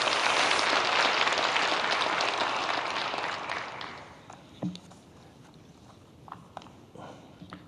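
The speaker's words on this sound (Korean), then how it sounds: "우리 박수 한번 보냅시다." A church congregation applauds at a New Year revival evening service, dense clapping that fades out after about four seconds into quiet room noise with scattered knocks.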